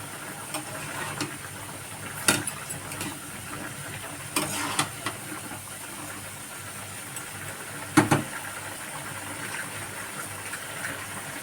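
Vegetables for a Bengali vegetarian curry with dried lentil dumplings fry in a pan, giving a steady soft sizzle broken by a few sharp scrapes and clinks as a spatula stirs them.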